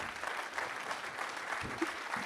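A congress audience claps steadily, a soft, continuous patter of many hands that stays fairly faint and even throughout.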